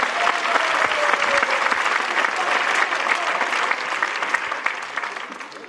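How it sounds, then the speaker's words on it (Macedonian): A stand-up comedy audience breaks into sustained applause, many hands clapping densely and steadily throughout, fairly loud and close, fading only slightly toward the end. "Ајде, дайте на аплауз, че им сакате уште малку"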